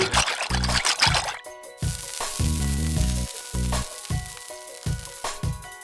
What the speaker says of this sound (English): let's go ahead and add our rice to the wok